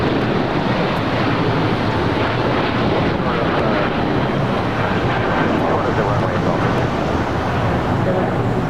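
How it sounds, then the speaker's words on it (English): A Cathay Pacific Boeing 777-300ER roars through its takeoff roll on runway 25 right at LAX, a continuous broad jet rumble heavily mixed with wind buffeting the microphone, loud and unbroken throughout. "Cathay Pacific 777-300ER now set for takeoff on 25 right."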